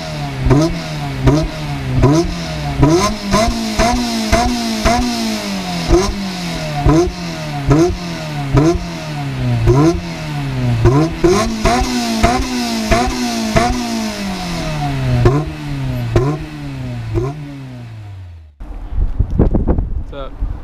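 Car engine revving loudly through a straight exhaust with no internal baffling at a Jay's Racing Festival meet in Yokohama, rising and falling in repeated blips for about eighteen seconds before cutting off, with wind buffeting the microphone.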